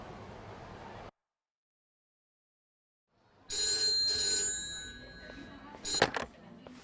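A telephone rings during a cutscene in the video game Yakuza: Like a Dragon, with bright repeated bell-like tones after a stretch of silence, fairly loud and close, ending in a sharper clatter.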